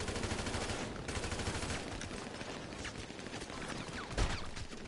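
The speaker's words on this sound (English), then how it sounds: "Why is everyone getting shot instantly?" Constant rapid gunfire in GTA 5 multiplayer, a dense and fairly faint stream of shots under game noise, with one louder impact near the end.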